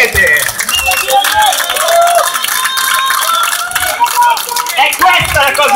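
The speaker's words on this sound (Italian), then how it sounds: "Grazie, un applauso." An audience at a political assembly in Segrate, Italy, applauds and cheers loudly and steadily, a dense crowd roar with whoops and overlapping voices throughout.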